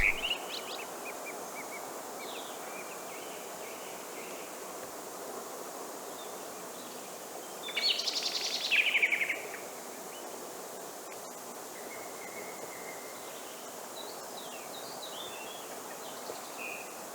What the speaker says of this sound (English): On my way to the car, I was accompanied by an orchestra of birds.